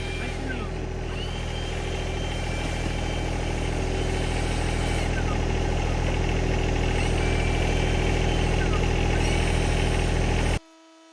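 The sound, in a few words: backpack leaf blower running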